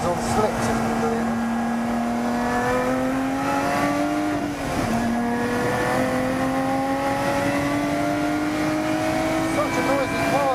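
Lotus GT430 race car screaming on a track at high speed, a loud sustained engine note climbing steadily with a brief dip mid-pass as it shifts, then rising again, with some talk underneath.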